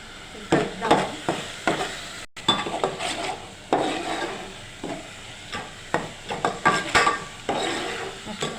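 A spoon scrapes and stirs ground coriander and spices in a frying pan, with repeated rhythmic scraping strokes and a faint sizzle underneath, close up and with no talking.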